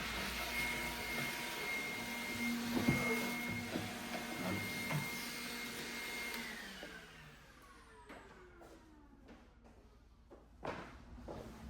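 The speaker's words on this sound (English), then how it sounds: "Gonna vacuum it out, get all the dust, the debris, the loose staples out of here" A vacuum cleaner runs steadily while sucking dust, debris and loose staples out of a gutted pinball machine, a loud droning whine with a pitch that shifts, then the motor winds down and a few knocks and clatters follow.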